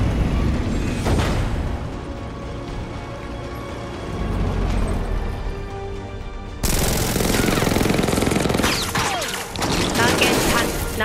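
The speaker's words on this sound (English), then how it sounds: "Now I'm being shot at by tanks." Tanks fire at Batman in the video game Batman: Arkham Knight, with loud, repeated cannon blasts and rattling gunfire layered over a rumbling battle. A voice speaks partway through.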